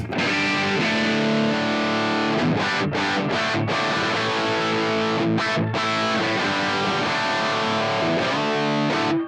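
A heavily distorted electric guitar through the Neural Amp Modeler plays sustained chords and riffs, loud and continuous with brief gaps, no talking.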